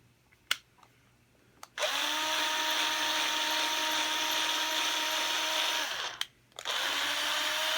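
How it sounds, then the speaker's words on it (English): A power drill whirs steadily at close range for several seconds, drilling a screw hole in a blue Fender Squier Stratocaster guitar, briefly stops, then spins up again; a few small clicks come before it starts. "we got to drill our next hole here very carefully, pushing down"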